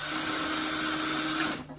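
A tiny drill bit bores gently into a dried gourd being made into a birdhouse, giving a steady close whirring drone that runs unbroken for under two seconds, then stops abruptly.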